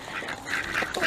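Farmyard ducks quack in a quick, close cluster of several calls, loud and busy with no talk over them.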